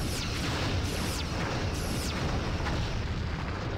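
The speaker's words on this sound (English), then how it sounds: "they have their pulse weapon as well" Pulse weapons firing during a Star Trek ship battle video game, a dense, loud, continuous roar of repeated blasts and booms with no talk.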